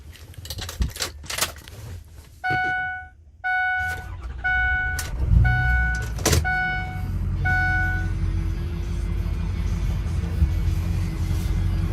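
Starting chime pulses, then a 2007 Ford F-250 Lariat 4WD with the 6.0L Powerstroke diesel cranks and fires, settling into a steady, close, rumbling idle that carries on to the end with no talk.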